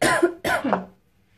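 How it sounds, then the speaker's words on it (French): Two harsh coughs in quick succession from one person, loud and close, followed by quiet. "Donc vous voyez ça me fait tousser."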